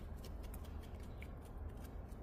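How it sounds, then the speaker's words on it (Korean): Small scissors snip through the flower stalk of a potted plant being set into a mini pot, a quiet run of rapid, light clicks close by with no talk. "꽃대 좀 잘라주고"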